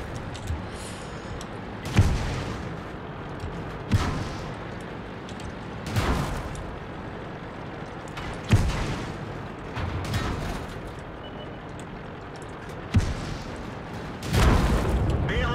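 Artillery fire in World of Tanks: heavy booming gun shots recur every two to four seconds, each a sharp thump trailing into rumble, with someone talking between them.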